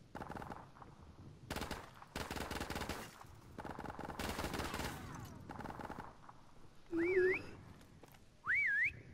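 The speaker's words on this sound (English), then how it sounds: "Please stop whistling." Whistled rising and falling tones from a hiding player in a Call of Duty Modern Warfare prop hunt match, two short loud whistles near the end after stretches of dense gunfire and game noise.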